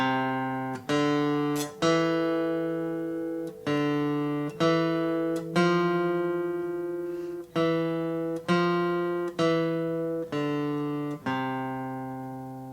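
Clean plucked guitar notes in a steady rhythm, each ringing with a bright attack and decaying, about a dozen notes with brief gaps between some.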